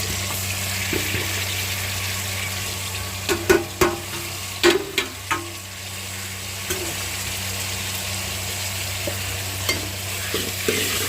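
Onions and spices frying in a pan, a steady sizzle under a low hum, punctuated by several distinct spatula knocks and stirring scrapes clustered in the middle.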